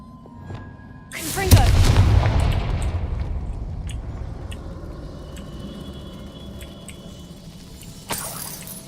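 A loud blast from the Confringo spell in Hogwarts Legacy, a sudden booming burst followed by a long rumbling decay, then a smaller pop near the end, with no talk over it.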